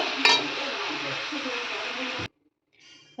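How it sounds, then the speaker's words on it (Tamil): Sautéed vegetables for a mixed vegetable sambhar are stirred in a pan with chili powder, asafoetida, salt and turmeric, giving a close, steady sizzle with light scraping that stops abruptly, followed by quiet. "குழம்பு மிளகாய்த்தூள், பெருங்காயம், உப்பு, மஞ்சத்தூள் எல்லாத்தையும் மிக்ஸ் பண்ணிடலாம்."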